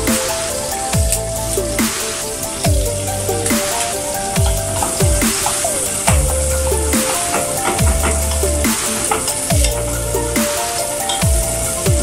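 Garlic and onion frying in a pan for chicken liver adobo, a loud, close, continuous sizzle with crackling pops and the clink and scrape of stirring throughout, no talking.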